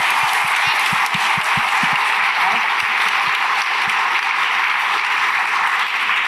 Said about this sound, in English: one more round of applause for you guys